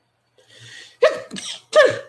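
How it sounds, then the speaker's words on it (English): A man gives a close, loud sneeze in a short series of sharp bursts, a soft intake followed by two quick explosive sneezes, heard alone in a quiet room. "that's how he sneezes"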